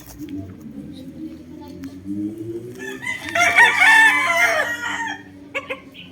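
A gamecock rooster of a two-way cross Boston line crows loudly close by, one long cock-a-doodle-doo rising midway, with softer clucking and someone talking before and under it.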